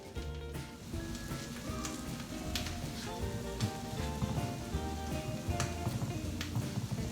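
French toast roll-ups frying in a very hot pan give off a steady, close sizzle with scattered crackles and pops, running alone throughout.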